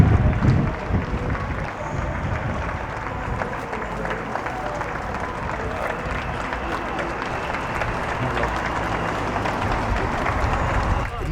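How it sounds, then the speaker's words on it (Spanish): Neighbours clap from balconies and windows along streets in Burgos at the 8 pm evening tribute to health workers during the coronavirus lockdown, a steady, dense wash of distant applause lasting throughout with faint crowd murmur. "no perderse esa cita ineludible todas las tardes a las 8 para aplaudir a los"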